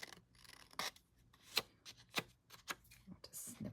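A paper trimmer slices paper for a handmade card, giving several short, crisp cutting swipes and rasps at close range, mixed with quiet handling noises.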